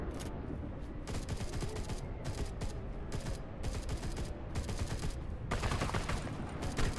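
Rapid bursts of gunfire from a weapon in the video game ARK Scorched Earth, sharp repeated shots in quick clusters with short gaps, loud and close.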